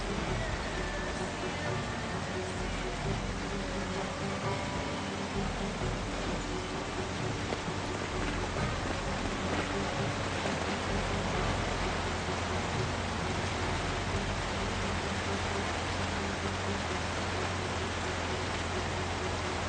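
Steady rain in the zombie survival game Project Zomboid, a dense continuous hiss of falling drops with a low rumbling bed, unbroken and even throughout with no talking.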